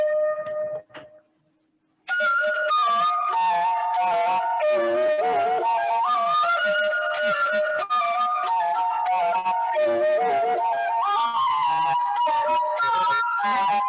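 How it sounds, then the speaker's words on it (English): Flute plays a melodic line from a Kannada film song originally composed for violin, clear and prominent with ornamented, sustained notes after a short quiet start. "this is composed for violin, but when it sounds on the flute, it sounds like this."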